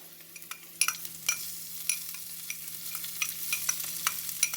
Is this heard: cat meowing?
no